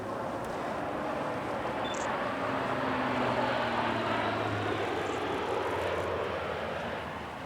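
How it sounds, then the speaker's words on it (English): Propeller-driven C-130J-30 support aircraft making a flypast at a US Navy Blue Angels airshow during Fleet Week, a steady loud broadband engine roar that swells slightly and holds for several seconds before easing off. "Their show opens with some flypasts by their C-130J-30 support aircraft before the jets take centre stage."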